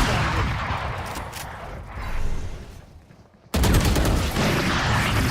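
Gunfire rattles in a Valorant match, dense bursts of rapid shots up front, a brief lull that thins almost to silence, then loud firing resumes abruptly and continues, close and harsh.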